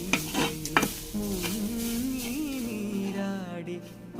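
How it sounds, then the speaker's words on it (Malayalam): A spoon stirs stuffed banana (pazham nirachathu) filling in a hot pan, with a couple of sharp scraping knocks at the start followed by steady soft sizzling and stirring. Singing carries over the cooking sounds. "നല്ലോണം ഇളക്കുക."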